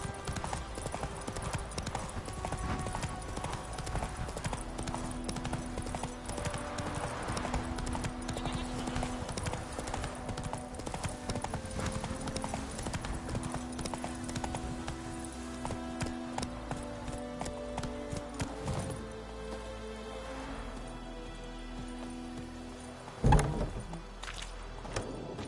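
Roach, the horse in The Witcher 3, clip-clops steadily at a walk for most of the stretch, the hoofbeats close and continuous under a game soundscape, with a single sharp thump near the end.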